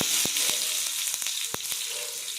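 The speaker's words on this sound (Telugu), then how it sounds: "ఇప్పుడు మనం తాలింపు వేసుకుందాం" Hot oil sizzles and crackles steadily, with a few sharp pops and spits as spices hit the pan, close up and fairly loud.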